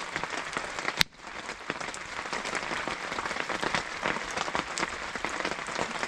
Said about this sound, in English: the rain is getting even heavier.